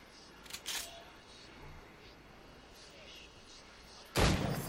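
Firecrackers go off in Assassin's Creed Rogue. A few sharp pops come early, then a much louder crack near the end, over a low in-game ambience.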